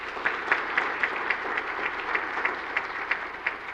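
Steady applause from a crowd at an awards event as a speaker is welcomed to the podium, continuous clapping with a slightly uneven rhythm throughout, fairly loud and close.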